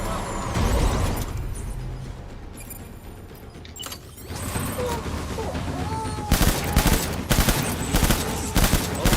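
Video game gunfire in Death Stranding Director's Cut: scattered noisy background first, then a rapid run of loud, sharp shot bursts packed close together over the final few seconds.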